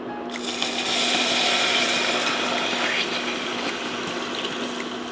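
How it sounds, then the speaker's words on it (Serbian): About 600 ml of water pours into a pot of melted sugar, a steady hiss and splash that fills the whole few seconds at close range. "dodajem 600 ml vode."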